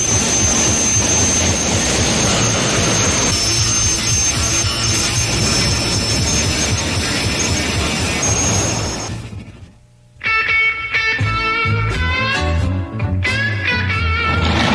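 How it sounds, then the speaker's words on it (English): Jet funny car with a lightweight Kevlar and carbon-fiber body at the Pro Jet Car Championships, Raceway Park, Englishtown, New Jersey, roaring loud and steady with a shrill whine, then a sudden drop followed by a fresh burst of raw thrust. "Jet funny cars, jet dragsters, all coming your way next from the Pro Jet Car Championships at Raceway Park, Englishtown, New Jersey."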